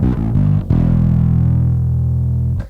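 Bass guitar played through a Boss ODB-3 Bass Overdrive pedal with the level cranked, giving a loud, gritty distorted tone: a few quick plucked notes, then one long sustained note that rings for about two seconds.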